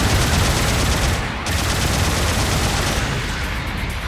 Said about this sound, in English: Its sub-weapons include two 60mm Vulcan guns